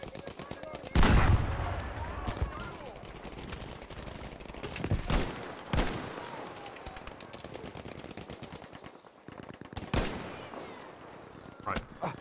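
A Vickers machine gun firing in Battlefield 5 during a public online match, with loud sharp bursts and rapid rattling rounds spread across the clip, separated by short pauses amid game ambience.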